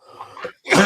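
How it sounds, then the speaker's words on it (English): A single close, loud cough with a throat-clearing rasp, heard on its own in a quiet indoor room. "that bastard Dooley's gave me a cough."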